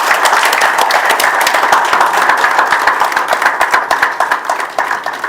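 An audience at a Telugu book-launch talk bursts into dense, loud applause, rapid overlapping claps sustained for several seconds and thinning slightly at the end.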